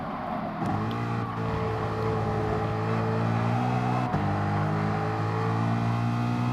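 A race car engine drones steadily at high revs while lapping the Brands Hatch circuit, a loud sustained in-car tone that shifts pitch with gear changes and throttle, with no talk.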